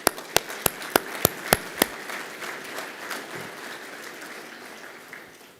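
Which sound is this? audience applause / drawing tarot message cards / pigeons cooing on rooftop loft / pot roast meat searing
audience applause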